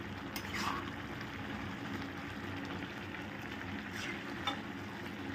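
Cashews and raisins cook in thick carrot halwa in a pan, a soft, close, steady sizzle and bubbling with faint stirring scrapes and no talk.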